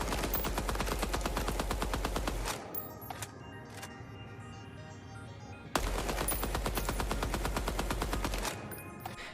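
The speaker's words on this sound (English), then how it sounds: "there's something about it that makes the recoil and the punch of the gun seem flat" Rapid automatic gunfire from the video game Deadrop rattles in two loud, sustained bursts separated by a short quieter gap with a few isolated shots.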